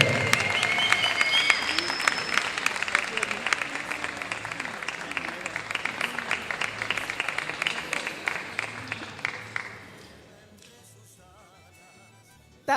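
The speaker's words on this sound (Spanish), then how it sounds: "Los aplausos, señoras y señores." Festival audience applauding at the final night of the Takuare'ê folk festival, a dense wash of clapping from a large crowd that holds steady for about ten seconds, then thins to a few scattered claps and fades.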